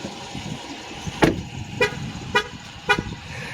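Horn of a 2023 Dodge Durango R/T in Destroyer Gray honking in four short, evenly spaced toots over a steady background hum.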